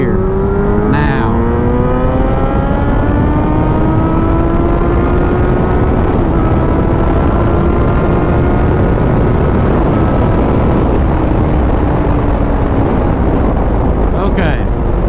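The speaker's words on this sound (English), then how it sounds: "It just starts pulling as soon as it gets to 6. We'll do it one more time. We'll go full throttle. Second gear." A Yamaha FZ8 motorcycle at full throttle in second gear, its engine note rising steadily in pitch over a long continuous pull with strong wind rush, loud and close throughout.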